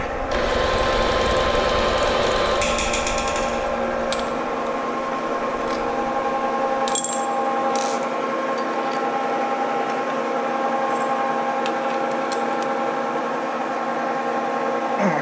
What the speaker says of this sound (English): Let's use this drill bit.